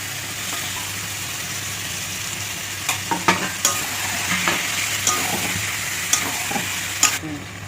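Chicken pieces sizzle in a spicy red dhaba-style curry in a pan, with steady frying hiss and sharp scraping clicks of a spoon stirring every second or so, close and fairly loud.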